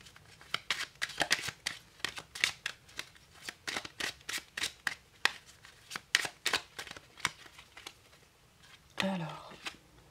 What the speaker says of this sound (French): on va prendre trois cartes du Merry Christmas